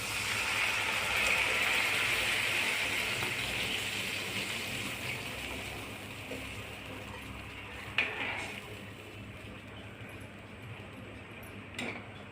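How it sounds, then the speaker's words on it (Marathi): Water pours into a pot for tomato rava upma, about eight bowls' worth, a steady rushing gush that starts strong and slowly eases, with a couple of faint clinks near the end. "आता आपण 2 वाटीला 8 वाटी पाणी घालत आहोत."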